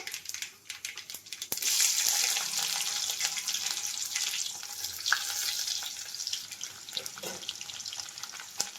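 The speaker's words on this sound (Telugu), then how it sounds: "పోపు కోసం ఆయిల్ వేసాం కదా ఆయిల్ కాగాక కొంచెం అంత పోపు దినుసులన్నీ వేసేసుకోవాలవా" Tempering spices sizzle and crackle softly in hot oil, a steady frying hiss with a few clinks and stirring sounds.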